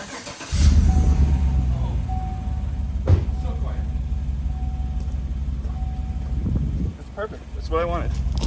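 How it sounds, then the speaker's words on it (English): A 2015 Chevrolet Silverado fitted with a new muffler cranks and fires up close to the tailpipe, then settles into a steady, deep, quiet exhaust idle rumble for several seconds, with faint voices in the background. "Put this by the tailpipe. We'll see how much it leaks."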